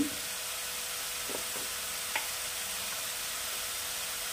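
Spice masala sautéing in a pan for aloor dal, a soft steady sizzle close by with a few faint scraping stirs, no voices.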